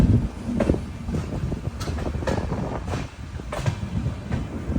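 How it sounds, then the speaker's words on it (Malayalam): An express train rolls into Karur Junction station, a steady close rumble of wheels and carriages with wind buffeting, faint clatter, and no voices. "കരൂർ ജംഗ്ഷൻ റെയിൽവേ സ്റ്റേഷനിലേക്ക് ഇതാ നമ്മുടെ ട്രെയിൻ എത്തിക്കൊണ്ടിരിക്കുകയാണ്"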